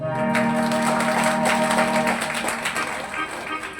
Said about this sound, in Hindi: एक बार अपने आप के लिए तालियां बजाएं।